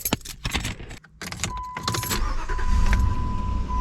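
Keys jangle and rattle at the ignition of a Jeep Commander, then its engine cranks and starts, settling into a steady, growing idle rumble close by.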